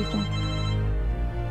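A telephone rings with a steady electronic tone, one sustained ring burst lasting about a second, fairly close and unaccompanied by voices.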